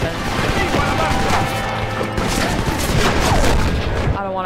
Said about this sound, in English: Ooh, not the machine gun.